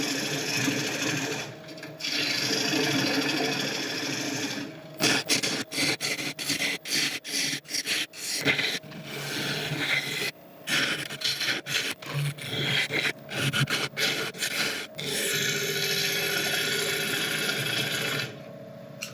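Gouge hollowing an African mahogany bowl on a wood lathe gives a steady scraping, rasping cut, broken into bursts of short strokes in the middle before running continuously again, close and loud with no talk.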